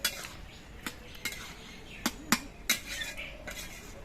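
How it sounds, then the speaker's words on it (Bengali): A spoon scrapes and clinks against a pan while bottle gourd (lau) cooks down for shukto, giving sharp metallic taps at irregular intervals over a quiet background. "লাউটাকে আর একবার নেড়ে চেড়ে দিচ্ছি"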